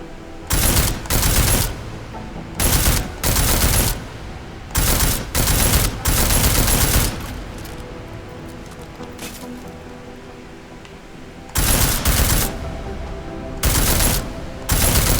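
Repeated loud bursts of automatic gunfire from a firearm in Deus Ex: Mankind Divided, fired in short volleys with brief pauses between, including a long quieter stretch before two more bursts.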